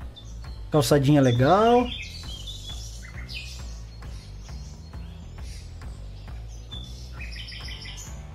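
Birds chirp and tweet in the woods of Farming Simulator 22, scattered short calls near and far over a low steady hum, with a brief spoken voice early on.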